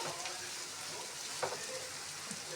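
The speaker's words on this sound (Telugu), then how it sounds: "నిమిషం ఇలా తిప్పేసి ఆయిల్లో కిందకి పైకి" Eggs fry in oil in a pan as they are turned over, giving a soft, steady sizzle with a couple of faint clicks from the turning utensil.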